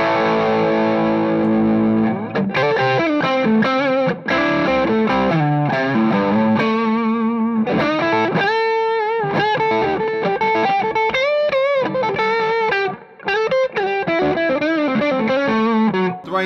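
An electric guitar played through a Boss SD-1 overdrive pedal plays loud, continuous distorted chords and single-note lines, with sustained notes and quick changes, close and filling the whole stretch with no talking.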